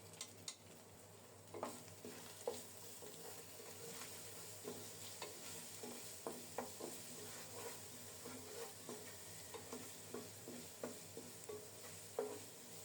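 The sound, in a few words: frying spices in a pan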